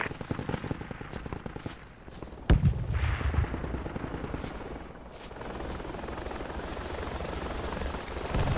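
Helicopter in the military video game Project Reality, a steady rotor drone throughout with a sharp distant gunshot crack partway, plus scattered gunfire in the background.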